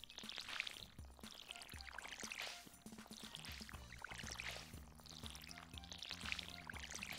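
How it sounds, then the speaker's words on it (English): Crops being watered with a watering can in the Stardew Valley video game, repeated short pouring and splashing effects at a regular pace over soft background game music, quiet and without talk. "let's water everything"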